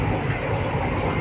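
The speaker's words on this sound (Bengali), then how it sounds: "আমরা মেট্রোতে উঠে পড়েছি।" A metro train in motion, heard from inside the carriage as a loud, steady low rumble and rolling roar.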